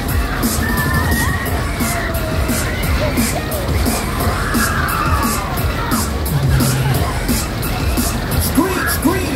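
Riders scream and whoop together on the Terminator thrill ride at a British summer carnival in Greenwich Park, a dense crowd roar that stays loud and steady throughout with overlapping shouts and cheers.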